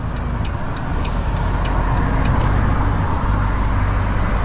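Steady loud road rumble from inside a moving car on a long drive, continuous engine and tyre drone without breaks or talking.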